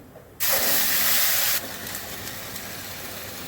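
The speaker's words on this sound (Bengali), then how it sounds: "এবার আমি মশলাগুলো দিয়ে দিচ্ছি" Ground spices hit a hot pan of oil already tempered with dried red chilli and cumin, bursting into a sudden loud hiss that eases after about a second into a steady sizzle.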